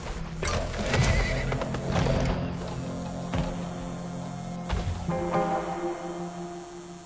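A horse being ridden in the Weird West video game whinnies loudly near the start while its hooves clip-clop in a steady rhythm throughout.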